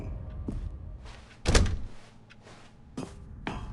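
A door in The Stanley Parable: Ultra Deluxe thuds shut with a heavy close, followed by a few lighter knocks and clunks against a background hum.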